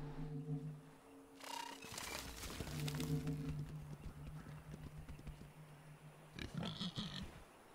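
Pig in the video game Planet of Lana gives several low grunts and oinks among trotting, clip-clop-like footsteps, with a few sharper squeals, all faint and fairly distant.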